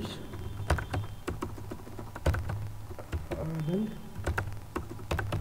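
Fingers type on a computer keyboard in quick, irregular bursts of close, crisp clicks, with a faint voice briefly in the background.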